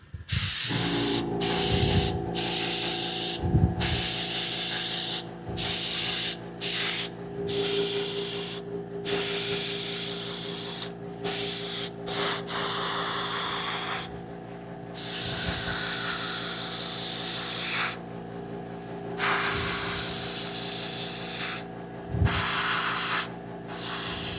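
A spray paint can hisses steadily onto a sheet of paper in several long sprays broken by brief gaps, loud and close.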